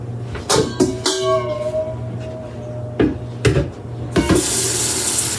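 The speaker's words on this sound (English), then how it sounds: "There's no water yet, but we're gonna get some water in there." Water runs from a tap into a canner holding empty jars, a steady gushing stream broken by several sharp clunks and knocks, loud and close in a kitchen.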